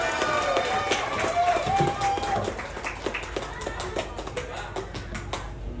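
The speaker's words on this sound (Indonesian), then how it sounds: "Tepuk tangan semuanya." Audience clapping at a university social event in Indonesia, a scattered round of hand claps from a crowd that starts fuller and thins toward the end, with some voices mixed in.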